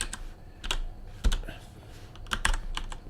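Fingers tap a new computer keyboard in short irregular clusters of crisp key clicks, a few louder strokes standing out, close and alone with no voices.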